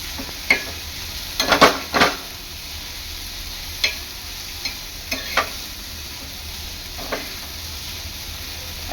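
Dry bombil (Bombay duck) bhurji stir-fried uncovered in a pan, a steady low sizzle broken by a few sharp scraping strokes of the spatula, clustered early and then spaced out.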